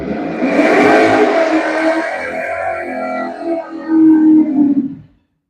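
The LT1-powered red Camaro revs and roars at a drag strip, a loud engine howl rising and falling, then a brief harder surge before cutting off abruptly, heard alone without talk.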